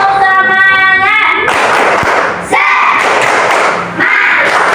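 A classroom of students does a rhythmic 'tepuk semangat' clapping chant, loud and close, with bursts of unison claps and voices in a patterned rhythm after an opening sung tone.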